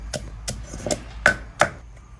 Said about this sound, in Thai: ตำพริกสดครับ